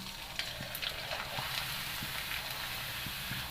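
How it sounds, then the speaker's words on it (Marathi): Batata bhagar kurdai, a potato and barnyard millet fryum, frying in hot oil, giving a steady soft sizzle with scattered crackles and pops, close and fairly quiet, with no talking. "तर आता दुसरी कुरडई तळून बघू आपण"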